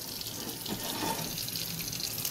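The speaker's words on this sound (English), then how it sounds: "Now you run in the water so that it gets hot." Kitchen tap running steadily into a sink to warm up, a continuous close hiss of flowing water with no voices.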